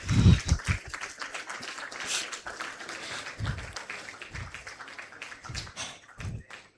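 Scattered applause from an audience at a university dean's awards ceremony, with uneven, sparse claps and soft thumps and rustle around them, moderately distant and fairly quiet.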